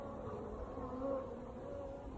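Honeybees fly around a hive in weak winter sunshine, their buzzing a steady low drone that swells briefly as one passes closer, with no voices.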